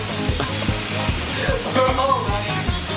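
Pork and basil stir-fried in a very hot pan give off a loud, steady sizzle, with rhythmic scraping strokes of stirring throughout and a voice speaking briefly.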